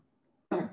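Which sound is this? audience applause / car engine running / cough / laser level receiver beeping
cough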